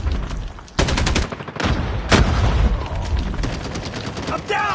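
Dense bursts of rapid automatic gunfire from a 10v10 match in the game Call of Duty Mobile, loud and close, with overlapping volleys and short pauses between them, under a game announcer's voice.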